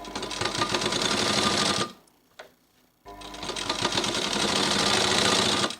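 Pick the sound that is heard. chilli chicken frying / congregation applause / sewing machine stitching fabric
sewing machine stitching fabric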